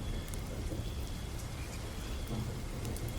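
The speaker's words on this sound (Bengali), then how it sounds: "কিছুক্ষণ পরে বাইরে বৃষ্টির শব্দ ধীরে ধীরে কমে গিয়ে আকাশের কালো মেঘ সরে যেতে লাগলো।" Cartoon-style sound effect of rain falling outside at night, a dense, steady, even downpour hiss with no voices.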